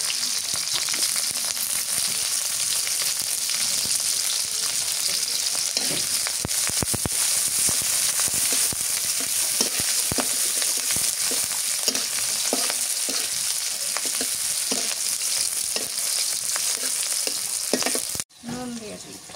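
Onions and green chillies sizzle steadily in a pan while a spatula scrapes and stirs in repeated sharp strokes, loud and close, before the sound cuts off abruptly near the end.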